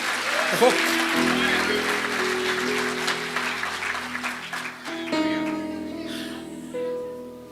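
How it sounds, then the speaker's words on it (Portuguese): A church congregation at an evangelical service applauds loudly in a dense, sustained wash of clapping mixed with voices, fading as keyboard music swells in the last few seconds. "se você pode, você aplaude ele."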